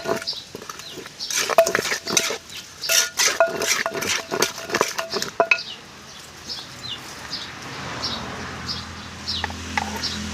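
Spicy chicken-foot salad is pounded in a mortar on a vehicle: a rapid run of sharp, close thuds and clacks for about five seconds, then quieter scattered knocks over soft background sound.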